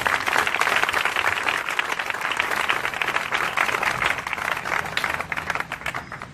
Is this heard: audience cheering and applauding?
yes